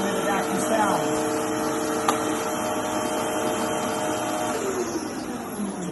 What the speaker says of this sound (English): You also hear a difference in the way the vacuum sounds.